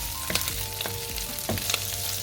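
Butter pepper shrimp pasta sizzling and frying in a pan while being stirred, a steady close crackle with a few soft utensil scrapes and faint background tones.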